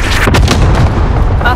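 Cluster strike artillery explosions in a Search and Destroy match of a video game, loud, continuous rumbling booms and blasts rolling one into another, very close and dominant throughout.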